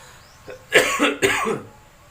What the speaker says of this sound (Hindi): बस खांसी आ गई थी।